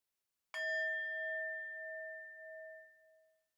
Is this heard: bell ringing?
yes